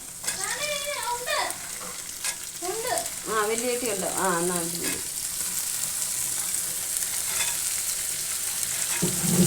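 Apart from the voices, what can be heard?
green beans added to a hot pan, frying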